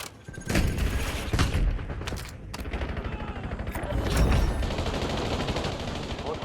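Gunfire in the video game Warzone, with loud bursts of rapid shots and booming impacts repeating across the moment, dense and close, with faint game voice underneath.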